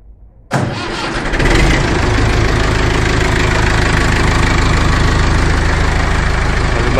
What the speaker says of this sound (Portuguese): Olha o barulho da máquina.